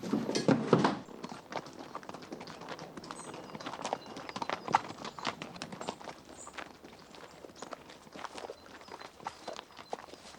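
Horse hooves clip-clop steadily on a hard surface, fairly close, in a continuous walking rhythm that lasts throughout.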